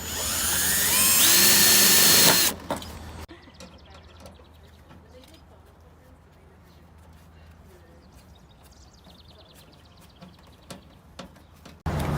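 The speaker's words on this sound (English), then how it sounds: "You can start it with a drill or a screwdriver" A power drill drives a screw into a metal rain-barrel downspout, giving a loud, whining burst of about two seconds, followed by a long, quiet stretch with faint background sounds.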